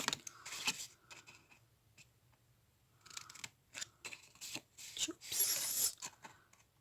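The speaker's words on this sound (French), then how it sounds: "On vient couper en biais." Fabric scissors cut along the bias, giving a series of short, close snipping and slicing sounds in irregular bursts, quiet and without talk.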